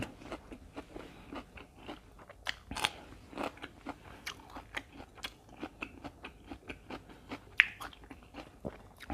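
Close, crisp crunching bites and chewing of homemade sausage eaten with fresh vegetables and sticky rice, in a rapid, uneven rhythm with no talking.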